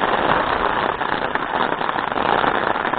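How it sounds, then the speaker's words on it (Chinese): A sudden heavy downpour in Japan drums loudly and continuously, a dense, crackling roar of rain striking hard surfaces with no talking. "不知道为什么突然下起了滂沱大雨"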